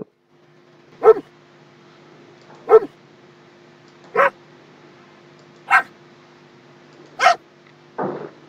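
A dog barks, played as a Google search easter egg sound. Six single barks repeat at regular intervals of about one and a half seconds, clear and close against a faint steady hum.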